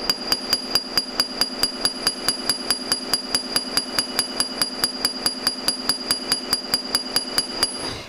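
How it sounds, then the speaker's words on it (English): A planishing hammer strikes metal with its rounded side in rapid, even succession, dozens of sharp ringing taps at a steady rhythm, close and fairly loud, with no talking. "I'm actually going to start to planish this out. Hence we're using the planishing hammer."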